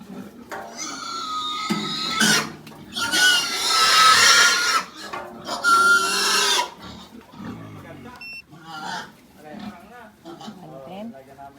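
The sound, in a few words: pigs oinking and squealing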